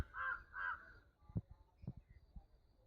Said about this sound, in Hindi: ये रहा कौवा जो दिख नहीं रहा है